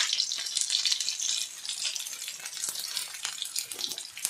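Onion and panch phoron fry in hot oil, giving a loud, bright, steady sizzling hiss up close that carries on without pause.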